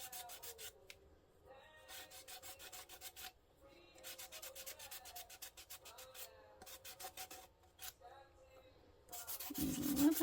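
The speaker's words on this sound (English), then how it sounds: "Sand right here on the bottom." Hand sanding along the edges of a wooden thrift-store furniture piece, close and fairly quiet, with repeated rhythmic rasping strokes in short bursts separated by brief pauses.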